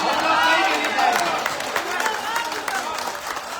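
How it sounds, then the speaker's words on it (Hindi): Audience applause at a live mushaira poetry gathering on a lawn in Bareilly, loud sustained clapping from a crowd that gradually thins, with a voice speaking over it. "एक बार जोरदार तालियां"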